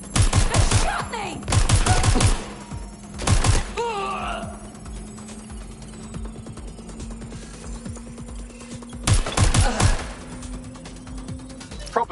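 Gunfire in Watch Dogs: Legion comes as a few loud, dense bursts near the start, one in the middle and another near the end, with mechanical clatter and a steady low hum in the quieter gaps.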